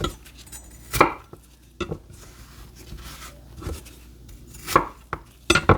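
A knife chops through apples for curry soup on a board in several sharp, separated strikes, some single and some in quick pairs, with quiet pauses between.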